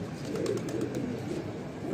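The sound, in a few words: pigeons cooing in a loft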